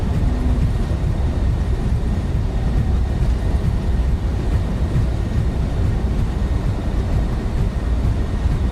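An Embraer E190 jet rolls out after landing in Microsoft Flight Simulator, with a steady, loud broadband rumble of engine and runway noise that holds constant throughout, no voices.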